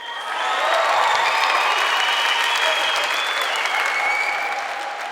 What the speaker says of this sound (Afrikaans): Klap vir Regie hande.